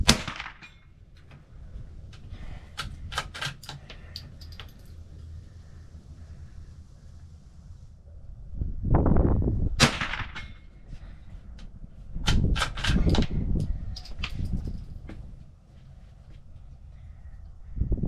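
Ruger Precision Rimfire .22LR rifle fired at an outdoor range, a few sharp cracks spread across the stretch, with quiet pauses and some handling noise between them.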